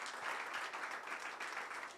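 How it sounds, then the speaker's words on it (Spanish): A church congregation applauding, dense sustained clapping from many hands filling the room evenly, fairly distant and without pause, no speech. "Denle un aplauso al Señor"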